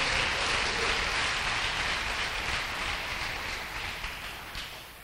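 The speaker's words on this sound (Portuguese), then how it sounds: "Você pode aplaudir o nome dEle?" A church congregation applauding during a worship service, producing a steady, hissing wash of distant clapping that slowly fades, with no speech over it.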